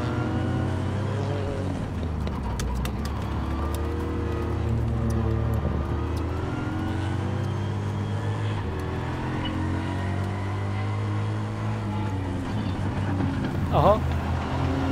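Race car engine on a track lap, Citroen Saxo VTS or Ford Fiesta Rally4, droning steadily throughout with rising and falling revs and a sharp rev change near the end, heard from inside the car under ongoing conversation.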